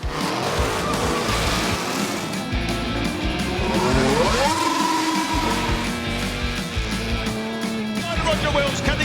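5-litre prototype race cars at the Goodwood Revival circuit, engines roaring and revving with a rising gear-change sweep and brief tire squeal, loud and continuous under a commentator's voice.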